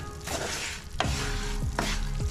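Jaggery cooks in a pan over a low flame with a steady soft sizzle, broken by a few sharp scraping stirs of a spoon against the pan.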